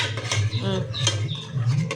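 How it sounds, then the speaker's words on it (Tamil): A metal ladle stirring dal with chilli, onion, tomato and garlic in a pressure cooker, giving a few close scraping clinks against the pot over a low steady hum. "கரண்டி எடுத்து மிக்ஸ் பண்ண."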